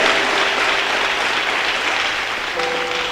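A church congregation gives sustained applause in praise of God, a dense, steady wash of many hands clapping that fills the whole stretch without a break.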